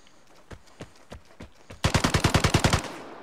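Gunfire in the video game Vigor: a few scattered single shots, then a loud, fast burst of about a dozen rounds fired in quick succession.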